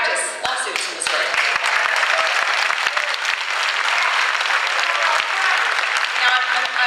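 Audience at a town hall meeting on healthcare and tort reform breaks into sustained applause, a dense wash of many clapping hands filling the room steadily for several seconds with no one speaking over it.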